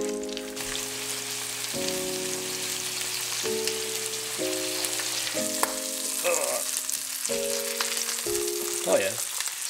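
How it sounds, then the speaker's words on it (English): Slices of rainbow trout fry in butter in a frying pan, a continuous crackling sizzle under steady sustained musical tones, with a few brief louder spatters. "we've got two slices on the side that will go on the frying pan as well, and we'll season them, we'll fry them on butter"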